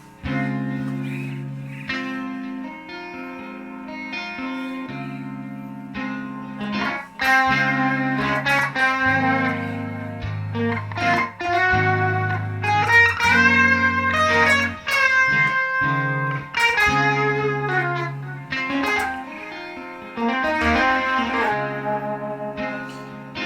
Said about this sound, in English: I'm going to add a little distortion.